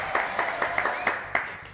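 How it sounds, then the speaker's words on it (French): Applause for a guest on a variety show, with a few distinct claps standing out over a steady wash of clapping, moderately loud and brief. "applaudissements pour José Rousseau"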